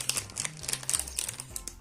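A plastic packet of collectible equator-animal toys crinkles as it is torn open. The rustling is close and soft, coming in irregular bursts.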